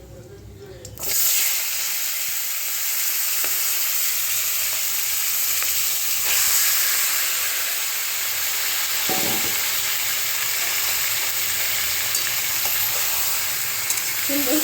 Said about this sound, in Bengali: এবারে আমি মাছটা দিয়ে দেব।